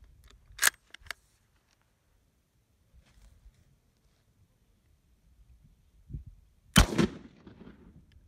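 An Italian surplus 8mm rifle round fires with a light hang fire: a sharp crack near the start and a quieter one after, a long near-silent gap, then a loud close shot with a short ringing tail.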